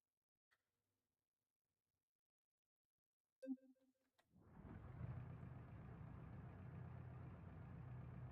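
A video game car engine settling into an idle resembling a 1.8 TDI diesel, starting after a few clicks and ticks, then a steady, moderately loud low rumble.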